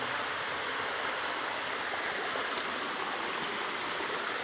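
A small waterfall rushes steadily and evenly, a dense continuous roar of falling water with no voices over it.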